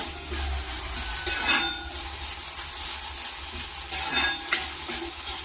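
Vegetables for a Kerala-style padavalanga thoran, snake gourd stir-fry, are stirred and scraped in a pan, giving a steady sizzle with a few louder scraping strokes, close and alone without voices.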